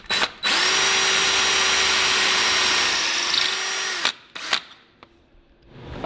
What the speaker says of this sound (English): then we'll keep drilling and tap it